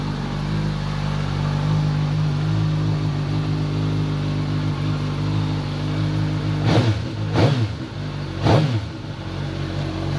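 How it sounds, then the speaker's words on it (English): A Suzuki GSX-S1000F motorcycle engine idling steadily up close during a rebuild, then three sharp throttle blips revving it up and back down in quick succession. "Bike runs just fine, so we're gonna continue with the build."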